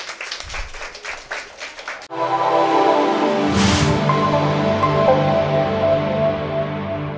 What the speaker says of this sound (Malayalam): ഒരു കൈയടിച്ച് പ്രോത്സാഹിപ്പിക്കുക